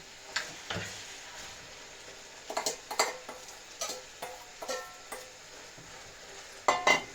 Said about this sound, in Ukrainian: м'ясо протушилось, викидаю цибульку.